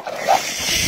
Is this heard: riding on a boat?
no